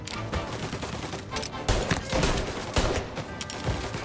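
Rapid gunfire bursts in the video game Mafia: Definitive Edition, a shootout with dense repeated shots and automatic fire crackling loudly throughout, no speech.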